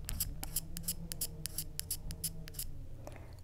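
A pencil is sharpened in a Høvel pencil sharpener, giving a rapid series of crisp, scraping shaving strokes close to the microphone in an even rhythm, with no talking.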